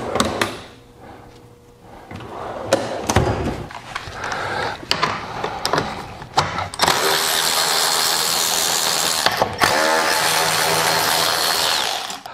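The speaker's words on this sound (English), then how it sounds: "we are going to remove the bolt holding the rear foot peg" Ratchet or power tool working the bolt on the rear foot peg of a Yamaha TW200 motorcycle, heard close and loud as sharp clicks and clatter that give way to a steady continuous whir in the second half.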